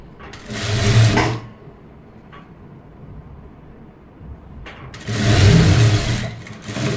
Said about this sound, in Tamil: அப்படியே தையல் போடுறேன்